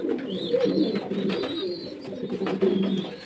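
Pigeons coo repeatedly in a close, steady chorus of low throaty calls, with faint higher chirps from other birds mixed in over a few seconds.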